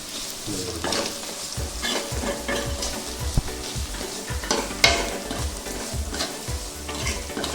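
Coriander and chilli powder stirred into frying onions in a pan for a raw mango curry, with a steady sizzle, rhythmic scraping strokes of a spoon close by and occasional metallic knocks.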